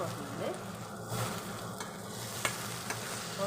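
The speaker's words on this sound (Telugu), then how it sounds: "వంకాయ బాగా మగ్గుతుంది, బాగా ఉడికిపోయింది కూడా వంకాయ" Eggplant pieces frying in a pan on the stove, stirred now and then, giving a steady close sizzle with scraping stirs and a couple of sharp clicks from the utensil against the pan.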